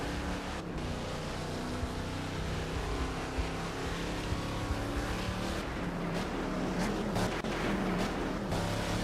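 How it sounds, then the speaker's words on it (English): A race car engine in the virtual world Second Life during a GT race, a continuous loud droning roar with slight pitch swells, sustained throughout without pause. "Another different, very nice sounding car."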